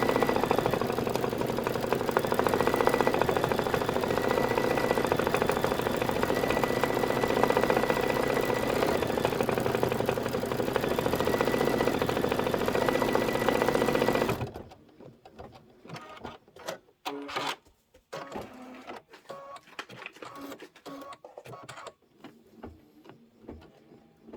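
A home embroidery machine stitches the detail on a blue house design with a steady, fast mechanical whir that runs loud and continuous for about fourteen seconds, then stops, leaving scattered soft clicks and handling noises.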